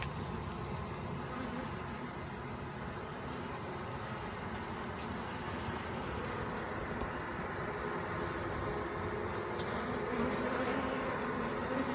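Honey bees buzz steadily at an open hive during requeening, a dense continuous drone filling the whole stretch without talk, with a few faint handling clicks.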